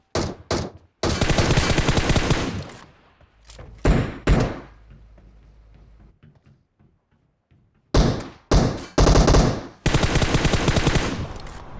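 Rapid automatic gunfire from shooting bots in Battlegrounds Mobile India, loud close bursts separated by short gaps and a quieter lull with faint distant shots and thuds, then more sustained sprays.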